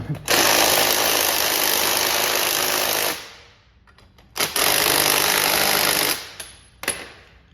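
An impact tool tightening a coilover spring compressor during a Raceland coilover install on an Audi A4 B5, in loud close rattling bursts: a long run, a pause, then a second run and a short blip.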